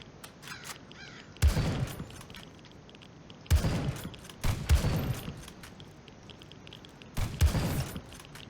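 Gunfire in the survival shooter Zero Sievert: four separate sharp blasts spaced irregularly over a low ambient hum, each decaying quickly, at moderate loudness.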